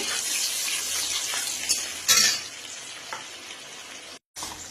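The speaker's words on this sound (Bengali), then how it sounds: "এখন কড়াইতে আদা কুচি, তারপরে হচ্ছে রসুন কুচি দিয়ে দিলাম। একটু হালকা ভেজে নিয়ে" Chopped ginger and garlic fry in a wok with a steady, close hiss of sizzling oil and a brief stirring scrape partway through; no one speaks.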